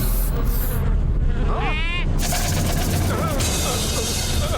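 Insect buzzing from swarming giant mosquitoes in a Motu Patlu cartoon whines loudly and continuously, with rising and falling cartoon effects layered over a busy soundtrack.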